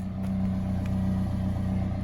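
Close to the tailpipe of a 2018 Toyota Corolla SE, the engine idles as a steady, even low-pitched hum with a faint rhythmic pulse and no talking.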